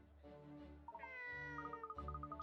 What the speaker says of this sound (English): Oh, a little cat. It looks like a stray.